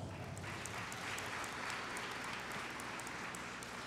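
Applause at a high school graduation ceremony welcomes a guest, a faint, distant wash of many hands clapping in a large hall, steady and continuous over a low rumble.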